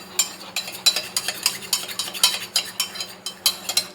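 A spoon stirs Glucon-D into a glass of mixed cold and hot water, making quick, rhythmic metallic clinks against the glass, close and fairly loud without any speech.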